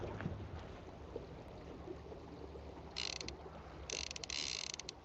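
Fishing reel on a stream outing with line spooling out, two brief bursts of fast mechanical clicking over a steady background of flowing water and outdoor hiss.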